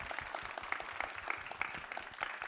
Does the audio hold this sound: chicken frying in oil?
no